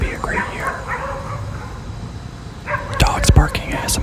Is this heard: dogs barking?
yes